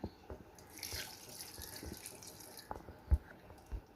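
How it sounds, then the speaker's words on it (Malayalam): Hot water is poured into a cauliflower roast curry made in chicken-curry style, giving a steady splashing, running-water wash with a few soft knocks and one sharper clink near the end. "ഇനി നമുക്കിതിലേക്ക് ഒരു കപ്പ് ചൂടുവെള്ളം ഒഴിച്ചു കൊടുക്കാം"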